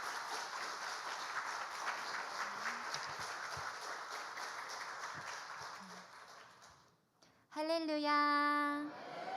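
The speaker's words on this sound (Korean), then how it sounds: "우리 뜨거운 박수로 강사님 모시겠습니다" Warm, sustained applause from a church congregation welcoming a speaker at a testimony service, steady clapping that fades out before a voice begins singing.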